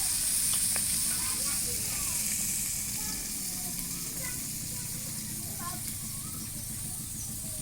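Fish frying for the pre-dawn sehri meal in a village kitchen gives a steady, close hiss and sizzle that runs throughout, with people talking over it.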